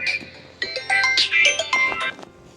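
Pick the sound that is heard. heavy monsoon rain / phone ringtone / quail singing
phone ringtone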